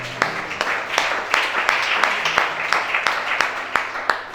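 An audience at a religious gathering claps in a steady, rhythmic beat of sharp hand claps, about three per second, with a general crowd murmur and voices underneath.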